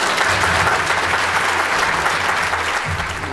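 An audience applauds at the end of a talk on Gen Z learning styles, dense sustained clapping from a full room, loud and even throughout with no voices standing out.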